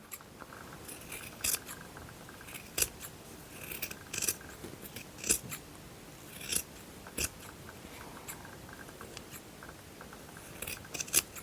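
Scissors snip through fabric while a kitchen pot holder is being sewn, giving crisp, close cuts in short irregular runs against a quiet background.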